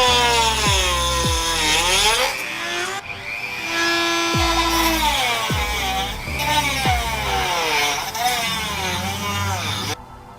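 A power tool cuts into the edge of an aftermarket front lip under the splitter tray of a BMW M4, giving a loud, close whine that repeatedly bogs down and spins back up in several bursts before cutting out abruptly.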